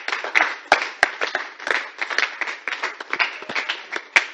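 Audience clapping at an international women's rights conference, a steady wash of many hands with sharper individual claps popping out, sustained and fairly close throughout without any voices.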